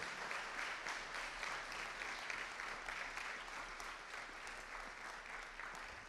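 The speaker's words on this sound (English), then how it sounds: "we're starting a round of applause for Sophia and IHE" A round of applause from an audience after a talk, steady and dense clapping from many people, quite faint and distant but continuous for the whole stretch.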